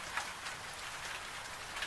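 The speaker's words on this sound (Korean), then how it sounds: "오늘 밤은 불꽃의 뜨거운 열기 대신 세상을 차분하게 가라앉히는 빗소리와 함께 당신의 곁에 앉았습니다." Steady rain falls continuously, a dense close hiss of drops on a surface with no other sounds.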